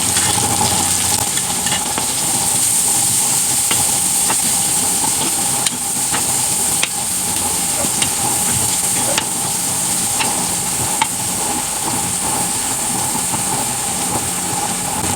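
Onions added to hot garlic sizzle loudly and steadily in a pan for a pork dish, a dense, unbroken hiss with occasional faint taps of the utensil.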